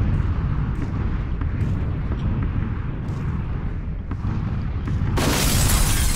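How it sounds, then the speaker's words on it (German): An explosion in the battle-royale shooter PUBG: Battlegrounds, played on PC, booms heavily over a continuous low rumble, with a sharper, brighter burst near the end. "Die Explosion."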